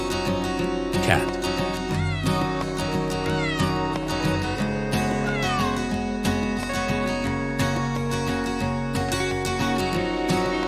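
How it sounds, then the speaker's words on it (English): Cat meowing amid a dense layer of continuous music, the calls brief and partly buried under the melody. "Cat."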